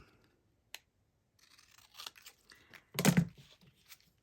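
Scissors snip through paper for an eight-petal button flower, a few scattered cuts with one louder burst of crunching and rustling near the end, close by and with no talking.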